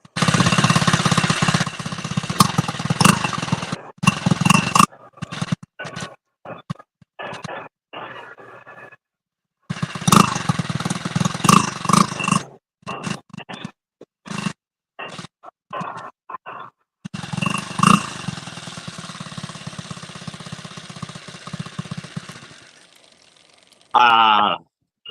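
A small motorized bicycle engine with a carburetor being started and run: loud, rapid, hammering bursts of popping clatter that cut in and out repeatedly, with people talking between the bursts.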